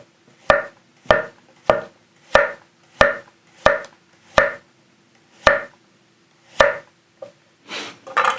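Japanese Ittetsu tsuchime kurouchi kiritsuke, 215 mm, cutting thin slices of sweet potato on a board: about a dozen crisp, evenly spaced knife strikes, close and clear, with a rustle at the end.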